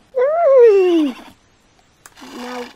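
A horse in the Roblox game Horse World lets out a loud, clear whinny with a falling pitch, followed after a brief pause by a shorter, lower neigh, alone and close.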